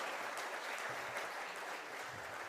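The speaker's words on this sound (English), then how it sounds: "So a real big round of applause for all of them who have come in all the way." Steady, fairly faint applause fills a listing ceremony for Vinsys IT Services India Limited, an even wash of many hands clapping with no pauses and no voices.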